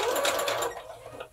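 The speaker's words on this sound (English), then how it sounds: "I'm just going to baste this first before I stitch it fully." Sewing machine running a basting stitch along a seam while making a pin-up style fall outfit, a steady close mechanical whir with fine rapid clatter that eases off near the end, no talking.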